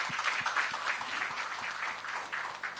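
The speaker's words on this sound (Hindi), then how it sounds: "इस बात के लिए तालियां बजाई" Audience applause in a hall during an interview event with Varun Dhawan, steady massed clapping at moderate distance throughout, with no clear speech.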